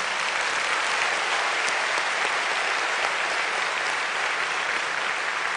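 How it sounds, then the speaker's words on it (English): Steady, dense clapping from a church congregation, sustained at even loudness throughout with no voices over it. "Let's give God another clap offering."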